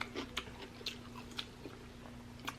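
Crunchy chewing of fresh cucumber during a close-miked eating session, with quiet, irregular crisp bites and soft mastication over a faint steady hum.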